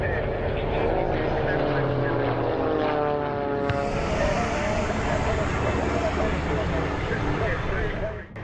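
A Boeing Stearman propeller biplane drones steadily at the Flying Circus Aerodrome airshow in Virginia, its engine note sliding in pitch as it passes, loud and continuous throughout.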